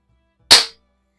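A single sharp crack from a CO2-powered replica single-action revolver of the Colt SAA, Remington 1875 or Barra Schofield type, loud and close, firing once in otherwise near silence with a quick decaying tail.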